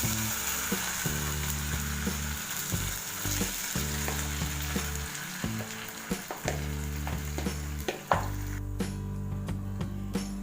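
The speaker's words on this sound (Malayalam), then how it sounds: "ഈ ക്രീം നമുക്ക് ഇനി ഈ പാനിലേക്ക് ഇട്ട് കൊടുക്കാം" Milk cream melts in a pan over medium flame to make ghee, giving a steady close frying sizzle with occasional stirring clicks and a low rhythmic mechanical hum beneath.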